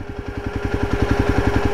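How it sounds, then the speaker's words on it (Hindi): A Jawa 42 motorcycle's cooling fan runs after a ride, giving a loud, steady whirring hum with a fast regular pulsing throb close up. "क्योंकि हम अभी दौड़ा के आए तो आप सुन सकते हो यहाँ पे फ़ैन स्पीड"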